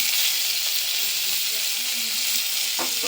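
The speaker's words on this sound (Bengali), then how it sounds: "এবার আমি টমেটো কোচানোগুলো দিয়ে দেবো" Chopped tomatoes hit hot oil with red-fried onions in a pan, giving a steady, loud broadband sizzle throughout with a brief sharper crackle near the end.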